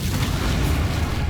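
In the Hogwarts Legacy video game, the Incendio fire spell is cast as one short, dense burst of fiery whooshing roar that fills the whole moment at steady loudness, with no talking.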